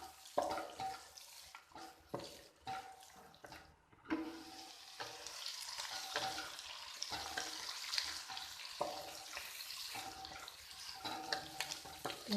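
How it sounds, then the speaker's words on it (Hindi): Chopped chicken with finely cut capsicum and carrots frying in a pan, a moderate crackling sizzle with irregular bursts of stirring and scraping, close by and without speech. "2 अदद बारीक कटी हुई गाजर। 2 से 3 मिनट के लिए इनको भी फ्राई करेंगे।"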